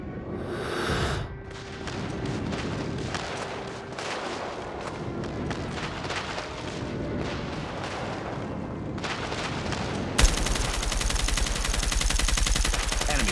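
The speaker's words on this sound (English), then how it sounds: "Friendly airstrike incoming." Dense game gunfire and booming blasts from a friendly airstrike in Call of Duty Mobile, loud and continuous, with heavy explosive rumble building near the end.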